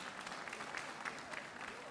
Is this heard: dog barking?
no